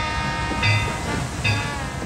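A passenger train passes with a steady rolling rumble and hiss, and two brief tonal swells rise above the continuous rail noise.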